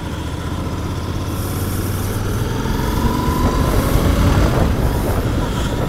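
Royal Enfield Continental GT 650 twin-cylinder motorcycle on a stock exhaust, a steady continuous engine drone that swells slightly in loudness while riding on a winter road, with no talking.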